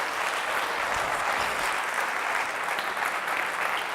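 A church congregation breaks into loud, continuous applause, a thick and even wash of clapping that holds steady throughout with no voices standing out.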